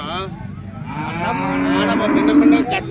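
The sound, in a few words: cattle mooing at a cow market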